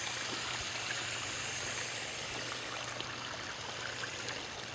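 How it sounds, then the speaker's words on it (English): Water trickles steadily through a landscaped garden pond stream in Fredericksburg, Virginia, a continuous even hiss and babble with no voices. "for our water stream"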